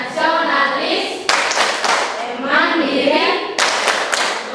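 Students stand and perform the Tepuk PPK rhythmic clapping chant together, loud patterned bursts of group handclaps breaking between stretches of chanted words, close and lively, with young voices chanting throughout.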